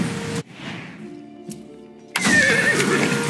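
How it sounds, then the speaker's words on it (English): A horse in the video game Far Cry 6 gives a short whinny amid ambient game sounds, with a brief quieter gap before louder outdoor game noise returns. "Hey, a magic horse."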